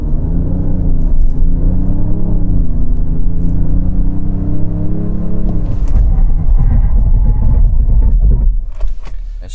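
A Genesis GV80 SUV brakes hard from 100 km/h, with a loud, close road and engine rumble whose pitch falls steadily, then rougher tyre and chassis noise as the vehicle stops; no voices.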